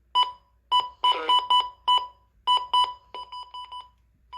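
Emergency Alert System required weekly test tones sound as a series of sharp, evenly spaced electronic beep bursts, some longer and some quicker, clean and fairly loud with no talking over them.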